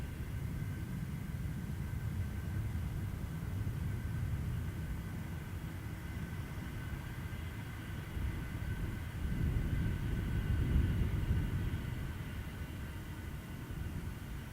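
A Singapore Airlines Cargo Boeing 747 freighter arrives at Perth Airport with a steady, distant engine roar and low rumble throughout, which swells slightly near the end as the jet passes.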